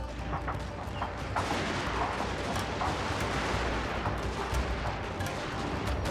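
Video game artillery shells castle walls with repeated booming shots and scattered blasts over a dense, continuous battle din.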